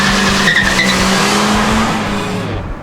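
A 2013 ninth-generation Honda Civic 1.8 i-VTEC swerves in a zigzag, tires squealing loudly over a steady engine drone that fades slightly toward the end.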